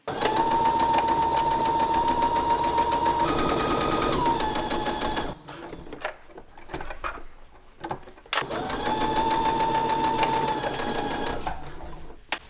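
A sewing machine runs in long steady whirring stretches while stitching along the top and down the edge of a pant, pausing briefly in the middle before starting up again, close and fairly loud.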